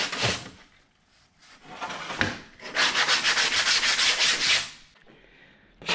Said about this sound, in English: gotta finish all the inner sanding by hand